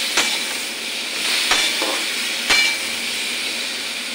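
Vegetables with turmeric and salt are stirred in a hot pan, a soft sizzle running underneath as a spatula strikes the metal in several sharp, separate knocks, a couple of them louder than the rest.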